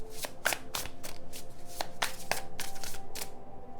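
Tarot cards are shuffled by hand in a rapid, rhythmic series of crisp riffling and slapping sounds, close and steady with no talking.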